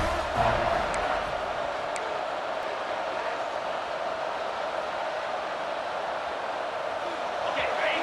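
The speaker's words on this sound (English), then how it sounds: "This crowd, full throat, splitting the eardrums and letting them know it's going to be a long day." A packed college football stadium crowd at Texas Longhorns home field in Austin, facing Auburn, roars in a loud, sustained wash of cheering that holds steady throughout with no talking.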